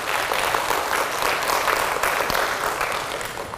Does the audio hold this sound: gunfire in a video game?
no